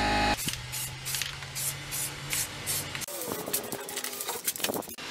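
Spray can laying down a coat of primer: a hissing spray in several bursts up close, then quieter handling noises afterward.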